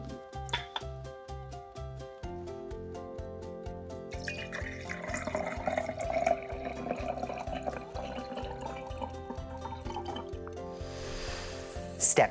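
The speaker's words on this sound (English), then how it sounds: "Fill the jar halfway with water so that it's up to about here." Water pours from a tap into a jar, a steady trickling splash that grows busier and bubblier as the jar fills, heard under gentle background music with no speech.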